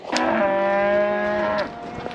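A cow on a farm lets out one long, loud, drawn-out moo nearby, with faint background noise around it.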